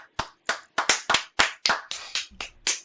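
A few people clap over a voice call, about a dozen sharp, separate claps in an uneven loose rhythm, close and fairly loud, with no talking.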